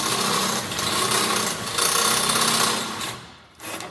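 Step drill bit cutting a hole in metal with oil applied, a loud continuous grinding rasp for about four seconds that dips briefly near the end.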